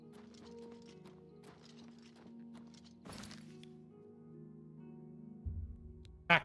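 Horse hooves clip-clop in the video game Oblivion. Faint, irregular hoof thuds sound over a low steady game hum, with a louder thump in the middle and a sharp knock at the end.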